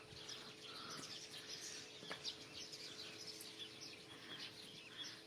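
Birds chirp and tweet outside in short, repeated calls, faint and fairly distant against a steady hum, with no talking.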